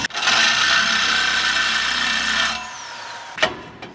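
A cheap reciprocating saw cuts through a car's exhaust pipe for a cutout on a 2JZ-swapped Toyota Cressida, with a loud steady buzzing grind for over two seconds, then stopping, followed by a sharp clank.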